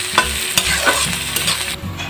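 Onions sizzle in oil in a pan for a jackfruit curry as a spoon stirs them, with scraping clicks over a continuous close frying hiss.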